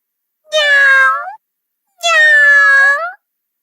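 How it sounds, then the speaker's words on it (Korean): Two long, clear cat meows, close by, separated by a short silence. "고양이는"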